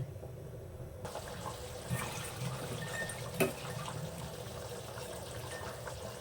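Water poured from a vessel into a pot of simmering potato curry, a steady close splashing and trickling stream with a small clink partway through, no talk.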